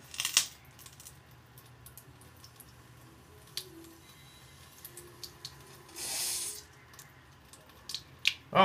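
Tap water runs in a short, steady burst while a cotton wick for a rebuildable dripping atomizer is wetted and rinsed, surrounded by faint small clicks and handling taps.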